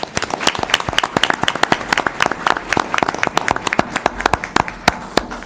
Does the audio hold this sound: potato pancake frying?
no